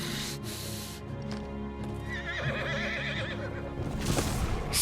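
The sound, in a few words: horse neighing in video game Final Fantasy 16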